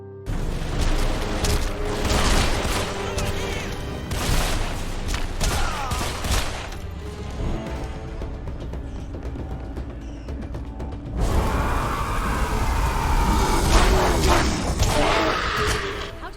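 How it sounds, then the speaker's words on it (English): Gunfire and explosions from the video game Deadfall Adventures crackle in rapid bursts and heavy thuds, a dense loud stretch of shooting with a booming blast partway through. "Shooting and explosion sounds are serviceable but generic"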